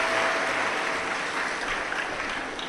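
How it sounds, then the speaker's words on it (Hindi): A large crowd at a live Shiv Mahapuran religious discourse claps loudly for honoured host families, a dense continuous roar of applause that holds steady throughout. "एक बार जोरदार ताली बजाकर इन सभी यजमान परिवार के लिए साधुता"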